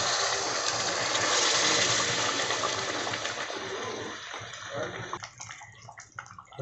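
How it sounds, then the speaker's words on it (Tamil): Cooked mutton gravy poured from a pressure cooker into a pan, a continuous liquid gushing and splashing that tapers off into a few drips and clinks. "அந்த குக்கரில் வேகின கிரேவியை இதில் அவங்க ஊற்றிடலாம்"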